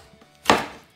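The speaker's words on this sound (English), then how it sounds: "I'm now going to start chopping our bananas up." A single knife stroke through bananas on a cutting board, one short crisp chop that fades quickly in an otherwise quiet room.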